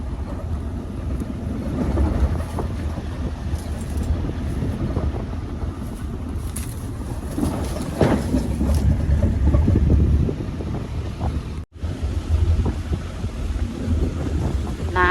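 Wind buffets the microphone on a moving boat, a continuous rough rushing roar with gusts that swell and ease, mixed with the drone of the vessel and a brief dropout near the end.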